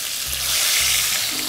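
Chicken pieces sizzle in hot oil with a steady, close crackle and faint stirring bumps, no voices present.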